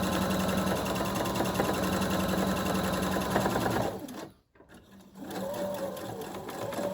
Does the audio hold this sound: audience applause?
no